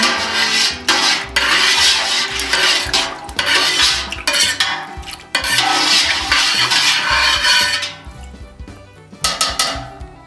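A utensil stirs dissolved rennet into milk in a metal pot while making American cheese, with steady scraping and clinking against the pot sides, loud and close, in uneven strokes with no talking.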